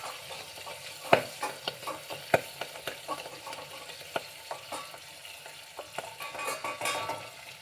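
Green chillies frying in oil under a lidded pan make a soft, continuous sizzle, broken by sharp pops and clinks of spattering through most of the stretch, with no talking.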